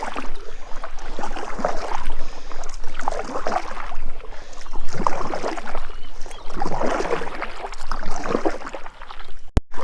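Paddles stroking through river water as a canoe moves along the Murray River against a bit of current, rhythmic splashing and gurgling swells in regular pulses, close and fairly loud with no talking.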